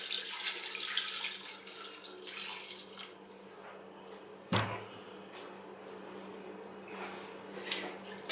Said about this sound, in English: we're now going to add some water,